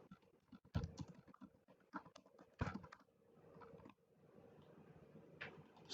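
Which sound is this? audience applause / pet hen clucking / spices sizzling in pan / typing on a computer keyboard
typing on a computer keyboard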